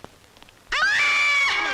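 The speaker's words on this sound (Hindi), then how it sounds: "वो औरत की आवाज नहीं है, तो वो हमारी घंटी की आवाज है।" A doorbell that sounds like a woman screaming goes off abruptly after a brief quiet moment, a loud, shrill, sustained wail from a Hindi comedy film scene.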